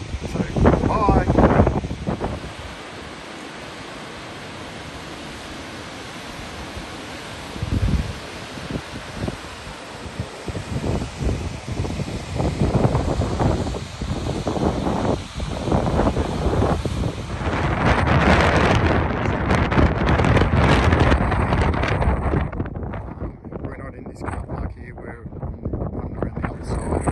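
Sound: wind blowing in a canyon in Iceland

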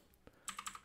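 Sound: pressing computer keyboard arrow keys

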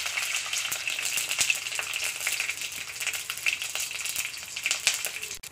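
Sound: vadagam broken into hot oil, frying

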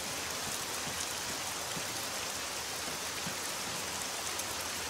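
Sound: rain

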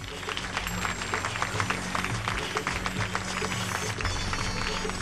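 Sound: audience applause for Russian guests on stage

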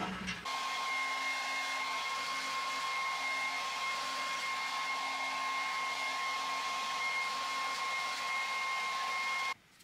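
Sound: dryer running

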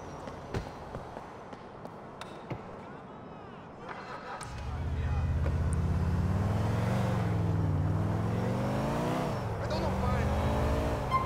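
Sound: car driving in the video game GTA 4

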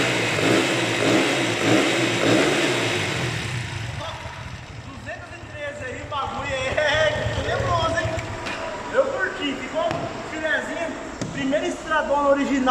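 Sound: motorcycle engine revving with original exhaust

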